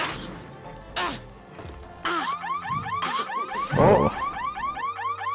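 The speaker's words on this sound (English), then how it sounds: "I was worried there was some kind of alarm going off in one of your houses" A warbling electronic alarm cycles through rising and falling sweeps, repeating steadily and fairly loud, while people talk over it and a voice briefly exclaims.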